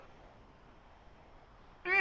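A single short cat meow, close and clear, at the very end after near-quiet background hiss.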